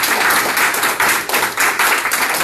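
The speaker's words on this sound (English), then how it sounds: "Can we give them a round of applause?" An audience at a Fresno Freedom School event applauds its board members, with close, loud clapping in an uneven rhythm and no voices.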